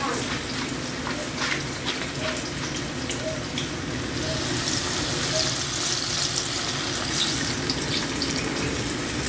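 Chicken pieces fry steadily in hot oil with a dense, continuous sizzle and crackle, loud and close, holding even for several seconds with a slightly brighter hiss toward the end.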